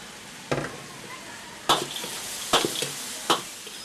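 Peanuts and dried chilies stir-fried in a wok for a Sichuan dish, a soft sizzle under four sharp scraping clatters of the spatula against the metal, close and spaced about a second apart.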